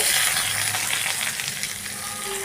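Cumin, coriander seeds, chillies and ginger fry in oil for a coriander chutney, giving a loud, steady close sizzle with light stirring and no talking.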